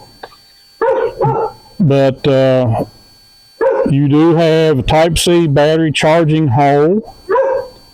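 A dog barks and yips several times at fairly close range, with the barks spread across the clip and overlapping someone speaking during a product review.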